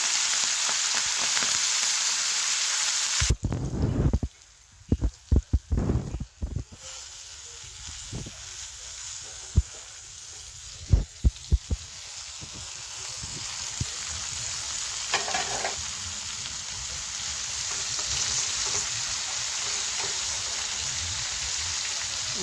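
Fenugreek leaves and dal stirred in a frying pan with roasted garlic, a steady close sizzle broken by scraping spoon strokes and clatter in the middle, then settling back to even frying.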